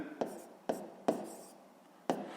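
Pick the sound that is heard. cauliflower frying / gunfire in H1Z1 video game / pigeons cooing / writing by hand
writing by hand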